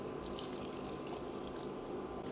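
Water is poured steadily into a cooking pot of rice and spinach, a soft continuous splashing trickle lasting a couple of seconds with no voices.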